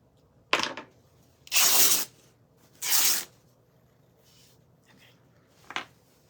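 Craft paper torn by hand in several close, crisp rips: a short tear, two longer drawn-out ones, then a brief final rip, separated by quiet pauses.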